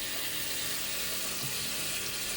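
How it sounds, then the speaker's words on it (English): Water gushes steadily from a concealed shower after its temperature cartridge has been replaced, a loud, constant, close hiss of running water with no voices. "Just purge some water out, make sure it's all nicely up to pressure."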